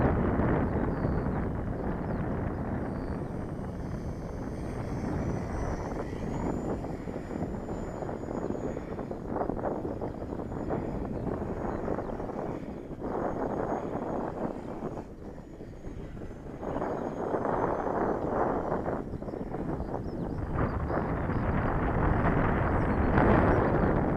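Strong wind gusting across a model airplane flying field, a continuous loud roaring rumble that buffets the microphone, easing briefly before surging again.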